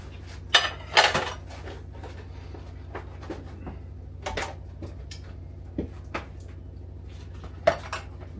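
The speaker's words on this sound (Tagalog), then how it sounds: "Yan, mag-uugis na siya ng pinggan." Dishes being washed at a home sink, with a few scattered clinks of plates and cutlery in short bursts over a steady low hum, fairly close and otherwise quiet.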